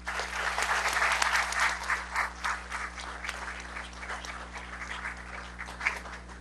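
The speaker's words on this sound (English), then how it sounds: "Let's please give all of our retirees a round of applause" A roomful of people at a school district board meeting gives sustained applause for retiring staff. The clapping is dense at first and then gradually thins, over a low steady hum.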